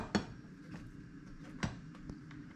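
Microwave-baked cakes being unmolded from their molds: a couple of sharp clinks and light knocks, close by, over a quiet kitchen background.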